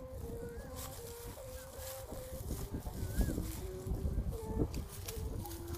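A flying kite fitted with a sounding bow hums steadily in a dry wind, its sustained drone wavering in pitch over gusty wind noise, with faint bird calls in the background.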